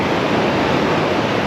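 Sea waves wash onto the firm, wide sandy beach at Boraceia in Bertioga, São Paulo, giving a steady, loud broadband surf roar with no break and no voices.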